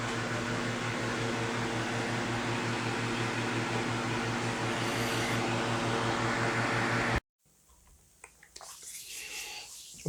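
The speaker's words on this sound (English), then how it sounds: "I'm going to air dry this with the fan" An electric fan blows steadily to air-dry painted Strathmore 400 paper, a close, even whirring hum with tonal motor drone that cuts off abruptly near the end, leaving faint room noise and a few light knocks.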